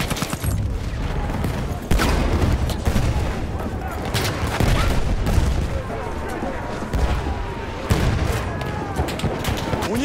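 Sustained machine gun fire and explosions in the Battlefield 1 video game, a loud continuous battle din with repeated heavier bursts and booms under shouted voices.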